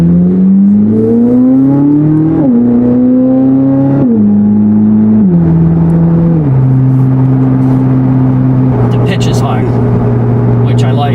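A Corvette C8 Z06 sports car with a new aftermarket exhaust accelerates through several gears, its exhaust note climbing and dropping with each shift, loud and close, with speech-like sounds in the mix.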